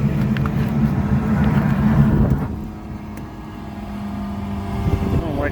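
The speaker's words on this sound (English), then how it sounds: "Like the way the blower sounds" A Bryant HVAC package unit's blower runs with a steady, loud, droning whoosh that eases slightly partway through and then continues, with a faint clatter near the end and no talking.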